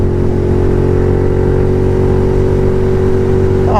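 A Royal Enfield Interceptor 650 motorcycle engine revs loud and close with a steady, strong drone, then its pitch shifts near the end as the bike drops down a gear.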